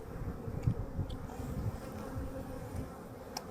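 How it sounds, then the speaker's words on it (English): Honey bees buzz in a soft, continuous drone around an opened hive box during queen release, with faint rustles and small bumps nearby. "a lot more bees now, because I think the bees came up stairs to greet her"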